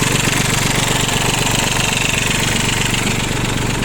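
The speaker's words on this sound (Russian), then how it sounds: "Такой вот тракторочек." A Mitsubishi MT-205 4WD mini tractor engine idles steadily and close, its even, continuous chug holding at one level with no talk over it.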